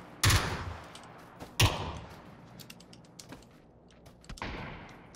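Gunshots in PUBG: Battlegrounds, two sharp loud cracks about a second apart followed by several fainter distant shots, with quieter mechanical clicks between them.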